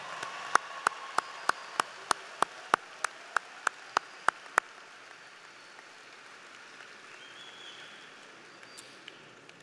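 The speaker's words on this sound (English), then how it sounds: "Please give them a round of applause," Applause for a graduating class at a 2018 South Fort Myers High School graduation: about fifteen sharp, evenly spaced claps ring out close and crisp, then stop, leaving quiet room hum.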